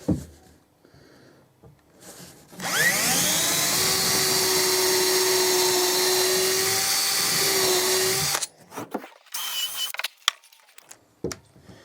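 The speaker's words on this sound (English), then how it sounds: "Put the pilot holes in." A power drill bores pilot holes into the wooden frame of a shed base, giving one sustained high-pitched whine for about six seconds, steady and close, between quieter handling noises.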